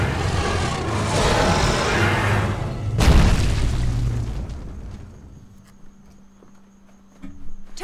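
Bomb exploding in Lara Croft and the Guardian of Light, a loud booming blast with a sharp hit near the middle, followed by a rumbling roar that fades into quieter game sounds.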